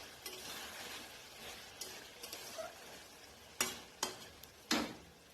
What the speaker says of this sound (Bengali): একটু নাড়িয়ে দেবো, কারণ আমার কড়াইটায় যাতে মাংসটা না লাগে